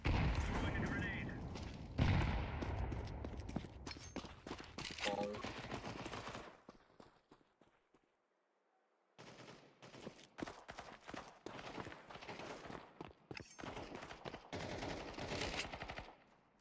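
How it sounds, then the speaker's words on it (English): Counter-Strike 2 match with a grenade throw and loud, dense bursts of gunfire and booms, a brief near-silent lull midway, then renewed rapid shooting; voices talk over the action. "Incendiary. Grenade out. Throwing a grenade."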